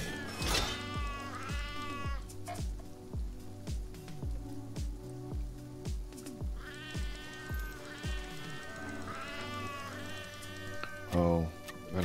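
A cat in the survival game Sheltered meows several times in clear, stretched-out calls over a steady hum, with buzzing, clicking game sounds and a final sharp, higher cry.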